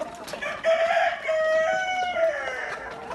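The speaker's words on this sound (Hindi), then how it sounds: "ये आप देख सकते हैं ओरिजिनल ऑस्ट्रोलॉर्प" Australorp chickens on a poultry farm in Swat, Pakistan: a rooster crows close and loud, its call rising and drawn out, with hens clucking around it.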